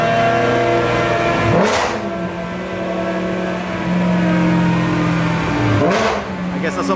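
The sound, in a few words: BMW E92 M3 engine running on a dyno, E85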